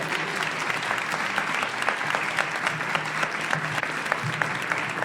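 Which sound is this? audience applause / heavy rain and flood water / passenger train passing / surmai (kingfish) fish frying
audience applause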